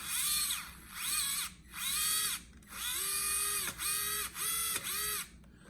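The electric motor of an RC car runs slowly in repeated on-off bursts, each a whirring whine that rises and falls, heard close and alone.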